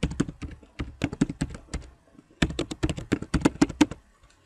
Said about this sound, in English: Now I have to type this over again.